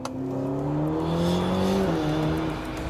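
A Ferrari GTC4 Lusso T accelerating hard after a downshift, its engine note climbing loud and close in a smooth rising sweep, with a brief dip at a gear change before pulling on.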